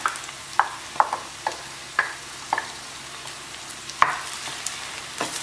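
Chopped tomatoes hit a hot pan for Goan meatball curry, giving a steady low sizzle broken by a series of sharp spattering pops and stirring clicks, close by with no talking.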